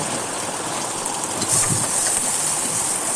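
Chopped onion, whole garlic cloves, dried and green chillies and salt fry in hot oil with a dense, even hiss that swells slightly louder partway through, close and continuous with no talking.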